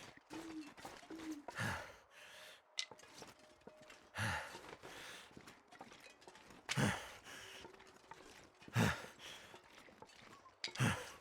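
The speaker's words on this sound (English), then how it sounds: "the panting drives me absolutely crazy" A character in The Long Dark survival game pants and breathes heavily in repeated ragged bursts, quiet and close, with soft footsteps and faint movement sounds between breaths.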